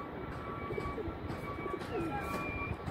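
Domestic pigeons coo in low, rolling phrases around a rooftop loft, several soft calls overlapping against a steady outdoor hum, with no one talking.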